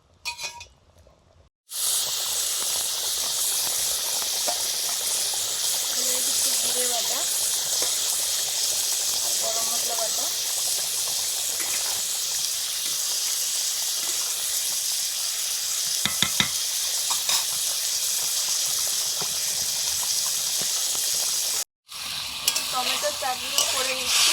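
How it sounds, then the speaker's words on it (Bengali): Hot water is poured over meat in a hot pan and it sizzles loudly and steadily for a long stretch, with occasional utensil clinks and stirring, briefly cutting out twice. "মাংসে গরম জল দিয়ে দিলাম"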